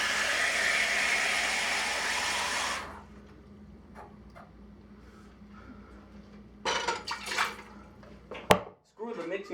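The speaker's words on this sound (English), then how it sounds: "Fill the pot 3/4 of the way with water." Water gushes loudly from a tap into a cooking pot for a few seconds, then stops, followed by scattered clinks and knocks of the pot and a sharp clatter near the end.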